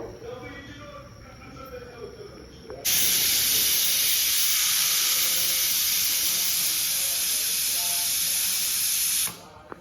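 A pressure cooker on high flame, cooking pigeon peas for a curry, lets out one loud, sustained steam whistle, a steady hissing shriek lasting about six seconds before cutting off abruptly, with faint kitchen sounds before it.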